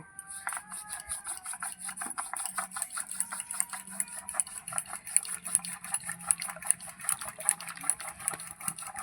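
Cooked dal being mashed with a wooden dal masher, a steady rapid rubbing and rasping with rhythmic wet churning, close and continuous.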